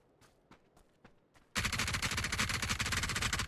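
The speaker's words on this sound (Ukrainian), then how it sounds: "вот он що з М24 стріляє десь по мені" Gunfire in the battle royale game PUBG on the Erangel map, with an M24 rifle firing; a few scattered sharp reports give way to a sudden loud, dense burst of rapid shots that lasts to the end.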